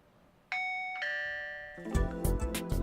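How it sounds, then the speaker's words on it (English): A two-tone electronic doorbell chime in the video game Robotics;Notes Elite rings twice, clean and clear, then gives way to louder game music and sound effects. "That was a doorbell."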